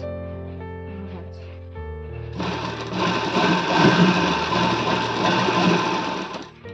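A sewing machine stitches a princess-cut blouse, starting after a stretch of tonal hum and then running in one steady, loud, continuous whir close at hand for several seconds.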